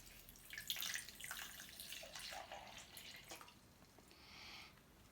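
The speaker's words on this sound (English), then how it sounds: "we put the drinking water into the blender" Drinking water is poured into a blender jar while making a fizzy kiwi and lemon drink, a soft splashing, trickling pour with light watery gurgles, fairly close and without talk.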